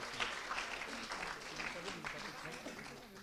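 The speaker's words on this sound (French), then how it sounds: "vous pouvez l'applaudir parce que c'était une question très difficile." Audience applause at a French science-communication competition final, steady dense clapping filling the whole stretch at moderate loudness, with a voice speaking over it.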